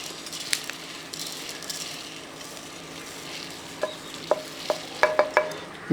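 Horse gram dry roasting in a pan gives a steady crackle and hiss, with a few sharp pops and light clinks of a stirring utensil growing more frequent toward the end.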